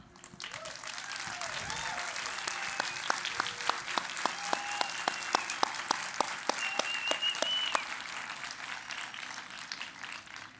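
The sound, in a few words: audience round of applause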